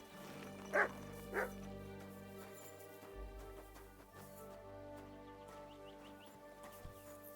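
A dog in Kingdom Come: Deliverance 2 gives two quick sharp barks near the start, then stays quiet under a soft musical background with no talking.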